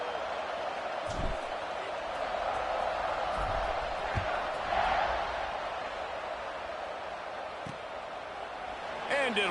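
A football stadium crowd roars at the kickoff of a game against Houston, a broad, distant wash of cheering that swells and fades and keeps going throughout.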